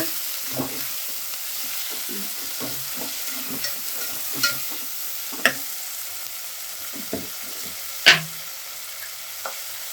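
Tomatoes stirred into brinjal curry frying in a pan, a steady sizzle with repeated soft scrapes and sharp clicks of a spoon against the pan, close and without talk.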